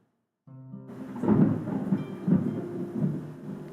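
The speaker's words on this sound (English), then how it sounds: "That was thunder." Thunder rumbles loud and close in rolling waves, with crackling bursts over a low, sustained roar.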